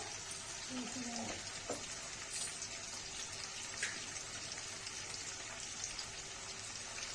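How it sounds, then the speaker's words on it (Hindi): Pointed gourd (parwal) with potatoes frying in a pan, a soft, even sizzle heard close with a few faint clinks and light kitchen noise, no talking. "गाइस देखिए परवल भून गया है।"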